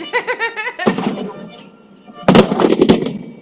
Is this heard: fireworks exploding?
yes